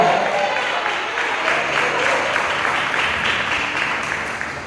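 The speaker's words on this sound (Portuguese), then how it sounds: "aplauda o nome santo do Senhor Jesus" A church congregation applauds steadily, the dense clapping holding level and then tapering slightly toward the end.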